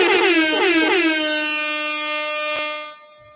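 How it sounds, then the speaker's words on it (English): Air horn sound effect blasting loud and close in three quick stuttering bursts, then holding a long sustained tone that fades out after about three seconds. "Oh, that was the perfect time for the air horn."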